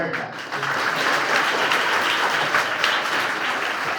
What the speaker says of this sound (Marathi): तुमच्या सगळ्यांसाठी तुम्ही टाळ्या वाजवायच्या